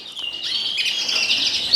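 Canaries and native finches in an indoor bird room, a dense, steady chorus of high chirps and trills filling the space at close range, with no talk.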